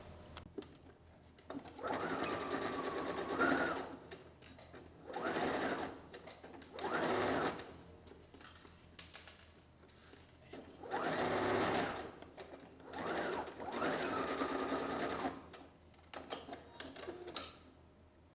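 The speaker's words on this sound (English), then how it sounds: "So we're gonna sew across here." A sewing machine stitches across fabric for a sewing-box project, running in several distinct bursts of rapid mechanical whirring separated by short pauses, close and clear with no talking.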